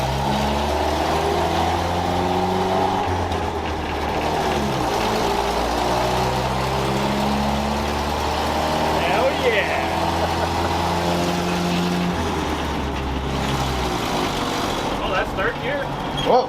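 Engine of a 1964 International Scout 80 pulling in third gear on a test drive after a tune-up, a steady low rumble throughout with people talking and shouting over it.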